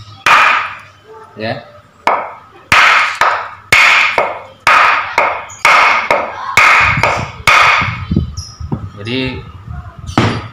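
A wooden block strikes a Ninja 250 carburetor to knock a part loose: about ten loud, hard knocks in an uneven rhythm, close by, with someone speaking briefly between some of the blows.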